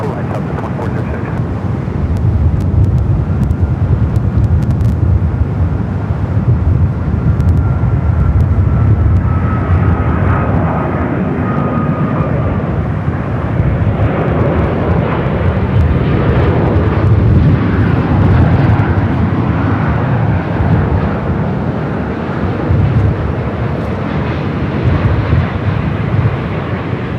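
A heavy Airbus A350 jet on short final to a runway at LAX in gusty winds roars loudly and continuously, a deep broadband rumble with a faint whine, as wind buffets the recording.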